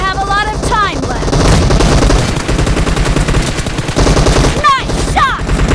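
Automatic fire from an M762 assault rifle in a team deathmatch video game, sustained rapid bursts that are loud and close, mixed with in-game voice callouts and other game sounds.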